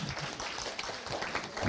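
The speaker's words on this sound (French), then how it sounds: "Vous pouvez l'applaudir également." Audience applause at a French professional careers event on luxury trades, a short burst of many hands clapping at moderate volume with steady crackling texture and no talk over it.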